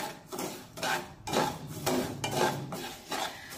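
Cashews and almonds stirred with bhagar in ghee in a wok, a spoon scraping and rubbing against the metal in repeated strokes, close and moderately loud, with no talking.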